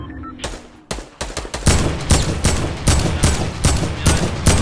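Rapid gunfire in a video game, with a burst of shots followed by a steady string of loud, closely spaced reports that continue throughout.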